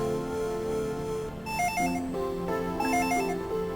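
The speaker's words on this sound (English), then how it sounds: "It's the phone. Maybe I should see who it is." A telephone ringing in Dragon Ball Z: The Legacy of Goku II, heard as a chiptune ring: repeated bursts of bright warbling electronic tones over the game's background music, loud and close, with no speech.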